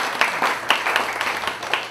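Audience applause for a team of volunteers at a public philosophy talk event, a steady patter of many hands clapping with sharp individual claps standing out, continuous throughout and fairly close.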